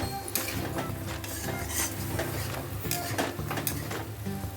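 Okra and potato with freshly chopped coriander leaves being stirred in a pan, giving a continuous close sizzle with scraping and light utensil clatter and occasional sharper knocks, and no voices.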